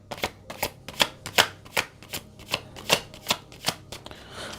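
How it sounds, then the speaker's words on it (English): Tarot cards shuffled by hand in a quiet room, about a dozen crisp riffling bursts in a steady rhythm, close and clear with no talk. "I'll pull cards on this as well."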